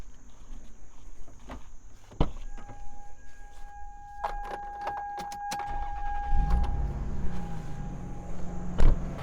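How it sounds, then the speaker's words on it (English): A car engine cranks and starts during an Arduino-controlled car generator setup, with sharp mechanical clicks and a steady tone, then a low rumble building near the end. "I'm going to start the car now."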